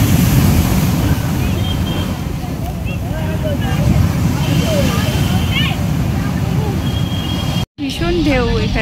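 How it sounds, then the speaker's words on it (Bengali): Big sea waves surge and break at Digha beach, a steady loud roar of surf with wind buffeting the microphone throughout, a brief dropout near the end, and faint voices in the background. "ভীষণ ঢেউ এখানে"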